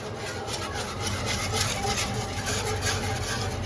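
A utensil scrapes the bottom of a cooking pan while Mongolian beef sauce cooks, a continuous close gritty rasping mixed with bubbling and a low background rumble, with no talking.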